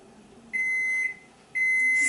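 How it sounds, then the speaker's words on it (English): An oven beeps twice on reaching temperature, each a long steady electronic tone about half a second long, separated by a short pause, in a quiet room. "my oven is beeping now. Came up to temperature."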